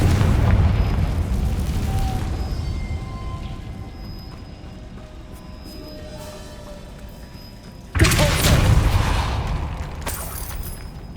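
Bombarda and Confringo spell blasts in the Hogwarts Legacy video game, a loud booming explosion that rumbles and fades, then a second sharp blast that hits suddenly and roars on.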